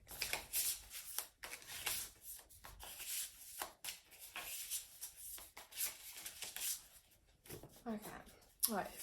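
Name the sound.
shuffling oracle cards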